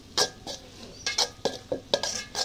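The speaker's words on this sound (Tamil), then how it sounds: "நல்லா மிக்ஸ் பண்ணுவோம்." A spoon scrapes and clinks around a bowl of spices and kasuri methi in several short bursts, close up and fairly quiet, with no voices.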